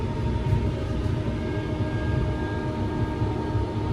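Steady train noise as a train pulls into Liverpool Lime Street, a continuous low rumble with faint tonal whine as carriages roll along, close and unbroken, no voices.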